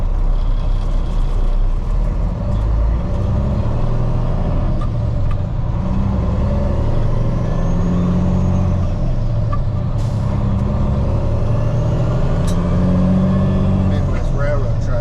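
Midwest Railroad trucks drive past a job site with a steady, loud engine rumble and possible air-brake hiss, while people talk nearby throughout.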